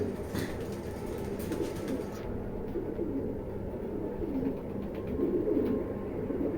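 Foreign-bloodline pigeons cooing in a loft, soft low coos over a constant background murmur, with faint flutters and no talk.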